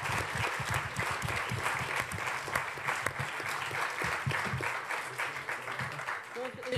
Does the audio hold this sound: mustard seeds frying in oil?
no